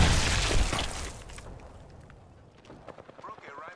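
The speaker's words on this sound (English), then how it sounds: "That was a really good grenade." A grenade explodes in a video game firefight, a loud close blast that rumbles and fades over about a second and a half, followed by scattered sharp pops of gunfire and clicks with faint voices in the background.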